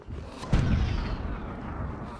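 Dwarves firing their weapons in the video game Myth II: Soulblighter, with one sharp, heavy blast that rolls into a rumbling, crackling tail fading over a couple of seconds.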